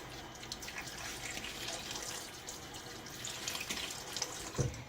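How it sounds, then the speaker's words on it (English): Tap water runs steadily and splashes as a face is wetted before shaving, a continuous close hiss with one louder splash near the end. "I'm getting face wet one more time"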